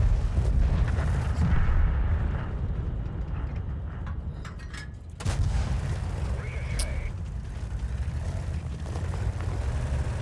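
Tank cannon fire in World of Tanks: steady rumbling battle noise with a sharp shot around the middle, followed by a renewed heavy rumble and a brief high ping.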